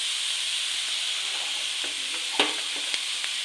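Chopped beans and carrots sizzle in a hot pan with grated coconut for a thoran, a steady hiss broken by a few sharp scrapes and clicks of stirring, close by and without talk.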